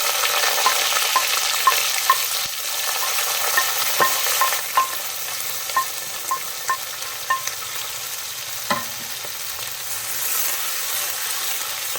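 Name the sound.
sautéing onions and round chillies in a pan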